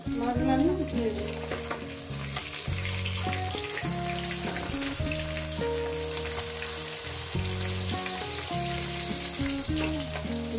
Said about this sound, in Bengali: এই করে আমি মাছগুলো একেবারে ভেজে নিয়ে ফিরছি